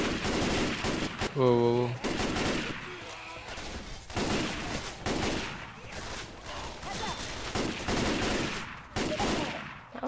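Gunfire in a fast online shooter game, with bursts of shots and impacts scattered through the clip while a player talks and exclaims over it.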